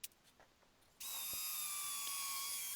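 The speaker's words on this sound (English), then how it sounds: "after a couple of hours drying time I piloted some holes ready for screws" A power drill boring pilot holes for screws in a workshop storage piece; a short whir starts after a second of quiet and runs steady and close until the end.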